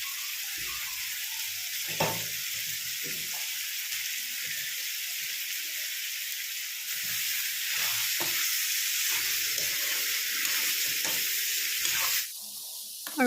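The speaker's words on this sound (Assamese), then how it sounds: "মাংসখিনি অলপ ভাজি লোৱাৰ পাছত এতিয়া আলু দি দিছোঁ" Pork and potatoes sizzle in a kadai, a continuous close hiss that grows louder partway through, marked by scattered stirring scrapes and clinks, with no voices.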